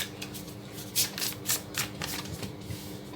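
Tarot cards being shuffled close up, a run of crisp riffling bursts repeating roughly every half second over a low background hum.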